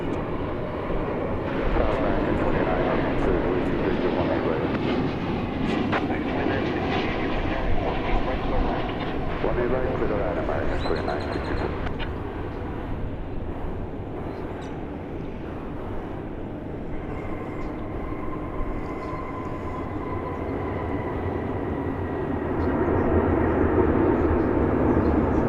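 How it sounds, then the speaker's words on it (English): A Boeing 737-800 airliner arriving from Detroit rumbles past at DFW Airport, a broad, steady engine roar that dips mid-way and builds again toward the end, with talking over it. "That's flight 482 of 737-800 from Detroit."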